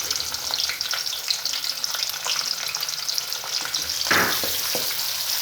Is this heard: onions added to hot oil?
yes